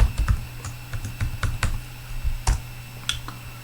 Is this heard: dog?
no